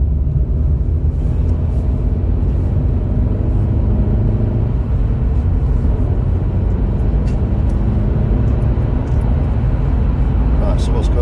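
A car accelerates in third gear, its engine a steady loud rumble and road roar heard from inside the cabin, continuous throughout.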